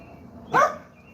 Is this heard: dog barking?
yes